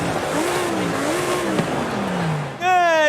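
A Lamborghini Huracan Evo in Forza Horizon 5, stock, runs with a steady, loud engine drone that holds for over two seconds, then climbs into a sharp, rising rev near the end.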